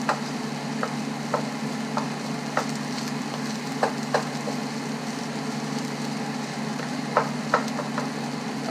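Rice with scrambled egg, corn, carrots and ham stir-fried in a pan, a steady low sizzle broken by scattered sharp clicks and scrapes of a utensil against the pan, with no voices.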